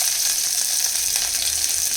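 Curry leaves and asafoetida sizzle in hot oil while tempering for homemade sambar, a steady, close crackling hiss that carries on for two seconds with no talk.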